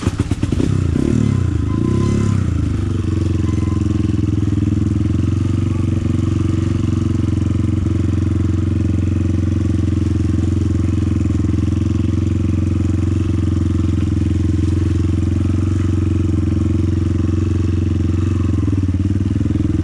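A motorcycle on a rough off-road trail near Chiang Mai, its engine droning loud and steady throughout, with clatter and bumps as it rolls over uneven ground.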